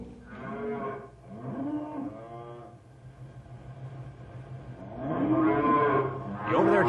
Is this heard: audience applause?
no